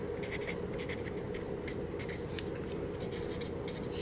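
Marker or chalk scratching across a board during a chemistry lesson, producing soft, rhythmic strokes over a steady background hum.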